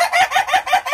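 Newly arrived chickens, one rooster and two hens, cluck loudly and close by in quick repeated bursts with a rhythmic, pulsing cadence and no talking.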